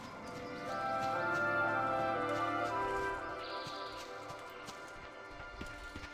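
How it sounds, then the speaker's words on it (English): Horses in World of Warcraft: a brisk run of hoof clip-clops with game ambience underneath, swelling louder in the middle and then fading back. "let's go see these horses over here"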